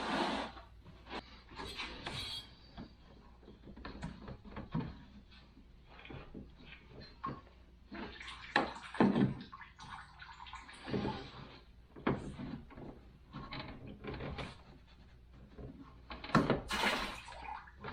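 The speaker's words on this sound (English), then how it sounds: "I'm going to actually undo the hose from the bottom of the radiator there, which is going to drain a bunch of coolant" Coolant running out of a loosened bottom radiator hose on a Land Cruiser with a 3FE engine, an uneven trickling and splashing stream mixed with intermittent knocks and handling noises close by.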